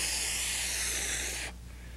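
A voice imitates the hiss of a spray paint can: a loud, steady, breathy hiss held for about a second and a half, then cut off sharply, leaving a quiet room.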